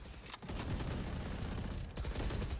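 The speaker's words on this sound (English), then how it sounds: "A lot of bullets being traded back and forth" Rapid gunfire trades back and forth in a competitive Valorant esports match, with dense bursts of automatic shots and a brief lull before another burst. Loud, sharp cracks run continuously, and no one speaks.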